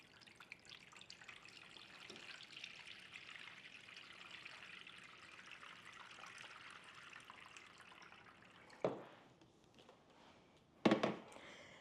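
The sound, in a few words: water filling acrylic floral arranger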